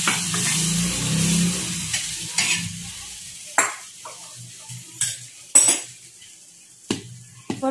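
A rice and mixed dal appe batter is stirred in a bowl with a spoon: wet swishing at first, then scattered sharp clinks and scrapes of metal against the vessel at an uneven pace, close and fairly loud.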